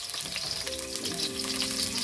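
Ginger sautéing in hot oil in a pan, a loud steady sizzle with soft crackles close up, and no talking.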